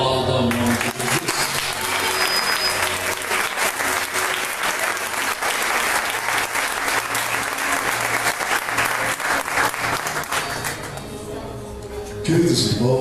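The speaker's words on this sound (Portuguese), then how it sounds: "a igreja aplauda o nome de Jesus" A church congregation at an Assembleia de Deus service applauds in a long, full wave of clapping, steady and loud for most of its length before easing off, with a voice rising briefly at the end.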